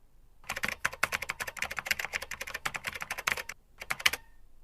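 Rapid keystrokes on a phone's on-screen keyboard sound in a quick, uneven burst of close taps, with a brief pause near the end before a final few strokes.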